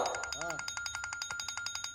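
A phone rings with a fast, regular electronic trill that pulses steadily throughout, with a short voice sound near the start.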